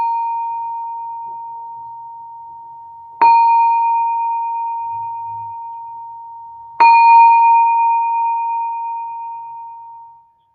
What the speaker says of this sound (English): And I'm going to ring the bell 3 times.